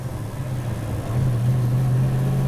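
A 1970 Ford Falcon XY GT drives with a low, steady engine drone that rises slightly in pitch and loudness about halfway through, close and continuous, with no talking.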